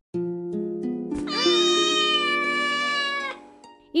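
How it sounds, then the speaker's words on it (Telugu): A cat lets out one long, clear meow lasting about two seconds, close and prominent over soft background music in a children's animated story. "అదే ఇంట్లో ఓ పిల్లి కూడా ఉండేది"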